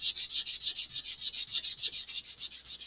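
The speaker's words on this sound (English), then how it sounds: "having a new piece of sandpaper and having the slightly coarser grit, this is going a lot faster" Coarse-grit sandpaper rubbed over balsa wood rocket fins for an Estes Black Brant XII model, making a steady rhythmic scratching of quick back-and-forth strokes, close and fairly quiet.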